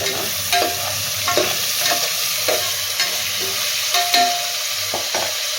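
Cauliflower sautés in a pan with a little salt, a constant hissing sizzle broken by regular scraping and clinking strokes as it is stirred up close, with no talking.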